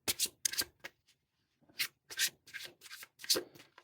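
Tarot cards riffled and shuffled by hand in bursts of quick papery rubbing, a pause in the middle, then several more close shuffles.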